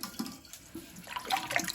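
Water drains out of a toilet tank while the toilet is being replaced, a brief, soft, close gurgle and splash that stays fairly quiet.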